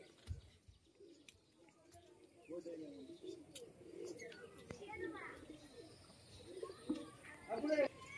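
A pigeon coos in soft, low, repeated bursts at close range, mixed with quiet voices and occasional light handling noises.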